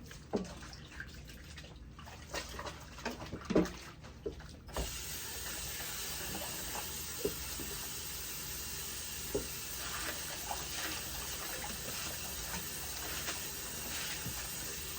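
Running tap water rushes steadily over a wig being rinsed, a continuous close hiss with a few knocks and splashes in the first seconds.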